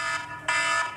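A cooking timer's alarm sounds beside a PK 360 grill during a ribeye steak cookoff, beeping loudly in a steady repeating pattern of bright electronic pulses.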